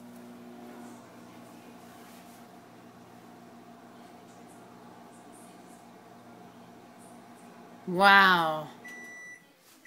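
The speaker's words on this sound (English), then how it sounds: "Put it in the microwave." A microwave oven runs with a steady low hum and fan drone, then a light bulb in a cup of water flares near the end in a short burst of crackling buzz with a brief exclamation.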